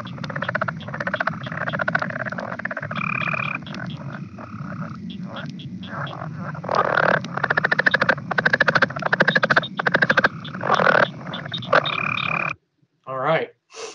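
A chorus of frogs calls in North Carolina: southern leopard frogs with Cope's gray tree frogs and cricket frogs mixed in, rapid clicking and croaking pulses layered densely and steadily until the calling cuts off near the end.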